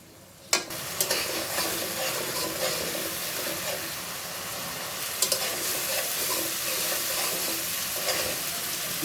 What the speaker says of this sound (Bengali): জল দিয়ে দিব মশলাটা কষিয়ে নিব